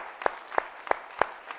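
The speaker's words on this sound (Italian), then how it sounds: "Facciamo un applauso a tutto lo staff." A few sparse, evenly spaced handclaps from an audience at a televised Italian event, applauding the staff; four crisp claps roughly a third of a second apart, without talk.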